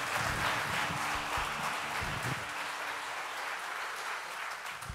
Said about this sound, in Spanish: A esta chica le vamos a dar un fuerte aplauso